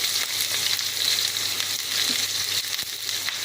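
Onions and spices fry in hot oil for cauliflower kurma, making a loud, steady, close sizzle that holds without a break, with a few faint stirring clicks underneath.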